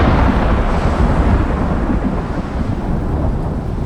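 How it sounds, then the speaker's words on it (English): Storm wind in the survival game Icarus roars as a loud, dense, continuous rumble, steady throughout with no talking. "A lot of wind coming."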